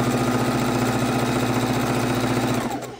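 An electric sewing machine runs steadily at close range, joining narrow 1.5-inch fabric scrap strips for scrappy quilt blocks, with a rapid even needle chatter over a motor hum for nearly three seconds before it slows and stops.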